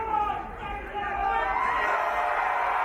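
Crowd at a live wrestling show at Festival Vieux Saint-Jean, a dense murmur of many voices swelling and holding steady, loud and continuous.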